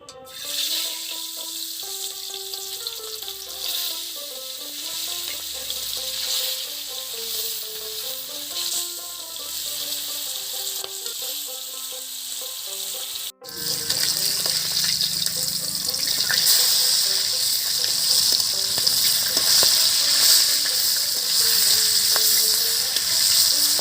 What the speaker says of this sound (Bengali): তেল গরম হয়ে গেছে, এবার আমি মাছগুলোকে দিয়ে দেব।